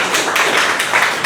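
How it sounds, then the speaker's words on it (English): A round of applause at a Toastmasters club meeting: a brief burst of dense clapping from the seated members, close and fairly loud, in short uneven waves. "So let's have a round of applause for Toastmaster Nishtha."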